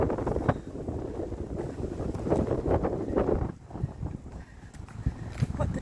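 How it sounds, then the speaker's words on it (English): Gusting wind buffets the microphone on an Appalachian Trail section hike along a soft pine-needle path, a steady low rumble swelling and easing over several seconds with brief rustling bursts, close and fairly loud. "The wind has picked up and it feels so good"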